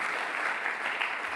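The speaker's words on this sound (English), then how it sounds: "a big round of applause to the powerful women of Italy" A summit audience claps in a short steady burst of applause, moderately loud and even throughout.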